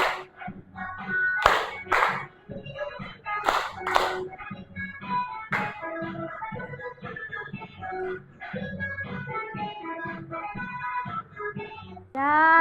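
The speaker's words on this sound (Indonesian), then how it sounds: "Ya, tepuk tangan." Classroom students clapping hands, a few sharp bursts of claps near the start, followed by voices talking and chattering in the room.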